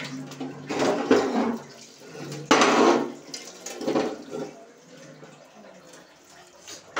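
Water runs and splashes in a kitchen in uneven bursts, loud then fading, with a quieter trickle in between.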